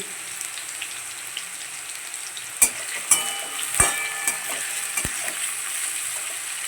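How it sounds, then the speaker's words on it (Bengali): Potatoes fry in a pan with a steady close sizzle, broken by a few sharp scraping stirs and clanks from the utensil. "ভাজা ভাজা হতে দিচ্ছি আলুটাকে"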